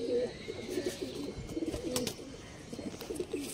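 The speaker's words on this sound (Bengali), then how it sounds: "মাদি পায়রা আছে" A female pigeon coos softly in a home loft, low repeated rolling coos in short phrases, close but faint, with other faint bird sounds around.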